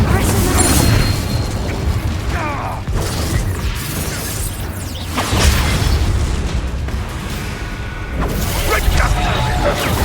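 Spell blasts from Expulso and Incendio in Hogwarts Legacy go off as a string of loud booms and crackling bursts layered over continuous game noise, with a voice shouting over the action.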